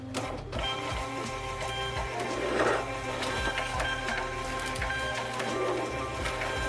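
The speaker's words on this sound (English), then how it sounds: "And then I print them using a label printer, which I have hidden right here. It is a laser printer." A laser label printer printing labels, a close, steady mechanical whir with rhythmic clicks and feed noises continuing throughout, with no talking.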